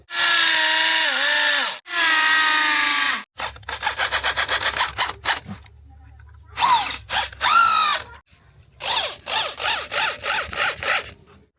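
A power drill whines loudly in long runs, then in short repeated bursts as it bites into a hard wall to fix wooden posts with a clamp, with brief pauses between.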